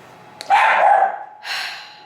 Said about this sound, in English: Of course the dog is barking.